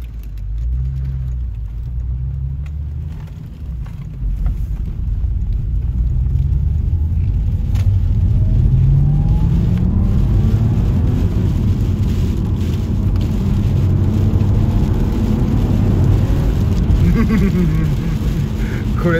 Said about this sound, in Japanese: これぞ水平対向の気筒エンジンの、ね、喜び最高のフィーリングです、6速マニュアルと6気筒、これ以上の組み合わせはないんじゃないかな。